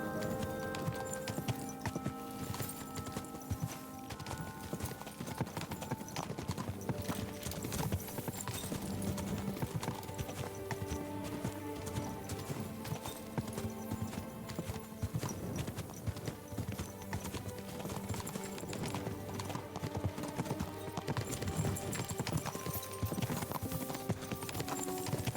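A horse's hooves clip-clop at a steady walking rhythm in the medieval game Kingdom Come: Deliverance II, mixed under continuous layered game music and ambience, with a faint whinny.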